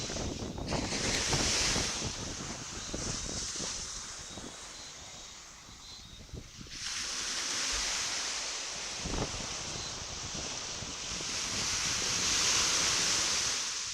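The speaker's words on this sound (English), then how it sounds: "The sound of the waves are so relaxing." Ocean waves surging and washing ashore on a live hurricane camera during Hurricane Beryl, with heavy wind buffeting the microphone, a steady roar swelling and easing over time, no voices.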